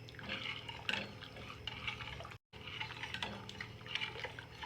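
Liquid being poured into a pot of thickening Moroccan harira soup, a continuous close bubbling, trickling stream with a brief cut midway, no talking.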